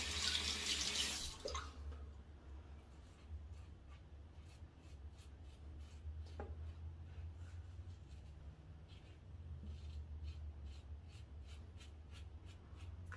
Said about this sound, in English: Rinse.